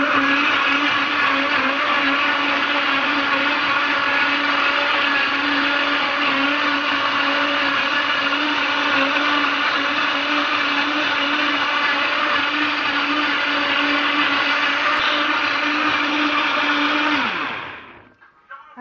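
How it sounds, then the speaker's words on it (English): A blender mixes a tropical drink with Moringa for about a minute, a loud, steady motor whir close by that runs unchanged and then winds down at the end, with no voices. "Blended that for about 1 minute."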